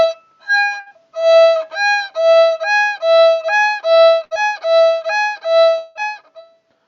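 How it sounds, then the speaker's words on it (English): Bowed string notes with a bow direction change on each note, so every note has its own attack and decay. About a dozen short, clear, detached notes play in a steady rhythm, close and alone. "Changing bow direction will introduce an attack and a decay."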